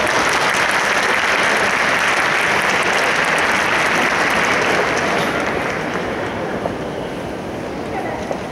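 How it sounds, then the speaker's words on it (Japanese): Dense, sustained audience applause in a concert hall before a men's university choir performance, loud and continuous throughout, easing slightly toward the end. "拍手でお願いいたします。"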